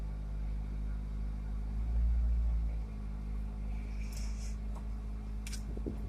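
A daily-driver car sits idling after a cold start in the garage, a steady low engine drone with a brief louder surge near two seconds, and some light clatter and faint higher noises toward the end.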